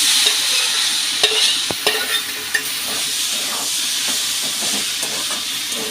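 Water spinach greens sizzle and hiss in a hot wok, with stirring strokes and a few knocks against the pan early on, a loud, steady close frying sound without voices.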